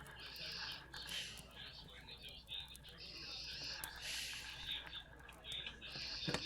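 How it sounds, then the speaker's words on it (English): Seabirds cry and call in repeated bursts above a low rumbling bed, faint and somewhat distant, played as ambience at a tabletop role-playing session. "You hear the seabirds flocking around above you."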